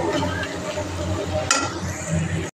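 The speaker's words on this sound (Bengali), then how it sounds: "এখন এটা ভালো করে কষিয়ে নিব।" A spiced masala mixture sizzles steadily in a pan while a utensil stirs it, with scraping and occasional clinks against the metal, close and continuous, ending abruptly.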